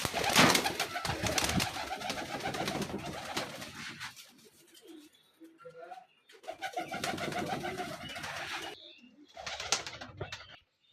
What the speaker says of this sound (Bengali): কবুতরগুলো খাওয়ানো হয়নি হয়তো আমরা বিকালবেলা শুধু খাওয়াই